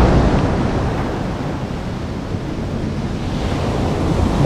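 Sea waves wash onto the shore at Charrana in northern Morocco, a steady close rush of surf mixed with wind buffeting the microphone.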